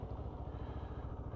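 A 2022 CF Moto 650NK motorcycle idles with a soft, even burble, a steady low pulsing of engine beats heard close and alone.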